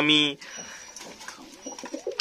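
Lakka pigeons on a rooftop give one short, full-voiced coo at close range, followed by softer scattered sounds and a voice talking.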